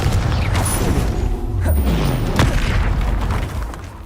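A Confringo blasting spell bursts in Hogwarts Legacy, a loud booming impact within a thick rumble of battle sounds, followed by a couple of lighter thuds.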